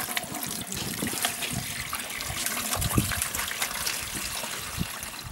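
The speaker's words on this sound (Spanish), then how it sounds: "después el agua se filtra a través de un trapo limpio" Water is poured and strained through a clean cloth into a container in a rural community in La Guajira, Colombia, giving a continuous close trickling and splashing with occasional louder gurgles and no speech.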